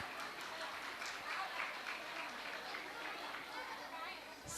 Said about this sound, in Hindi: इनके लिए जोरदार